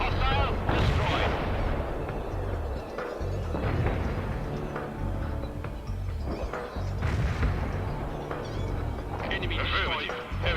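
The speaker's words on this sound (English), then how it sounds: "Heavy tank reporting. Hostile spotted. Firing." Heavy tank gunfire in the war video game World in Conflict, with repeated booming cannon shots and explosions over a dense battle din, and radio-style voices talking throughout.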